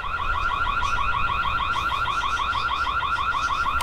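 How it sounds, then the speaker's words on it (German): A Noorio B311 battery-powered security camera sounds its alarm siren, a loud repeating electronic warble cycling rapidly and steadily without pause, alone with no talk. "Zum Vergleich vielleicht noch die Auslösung des Alarms."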